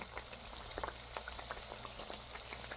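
Padma gaja, a Bengali sweet, frying in hot oil, a steady soft bubbling crackle with scattered small pops, faint and close, with no talking.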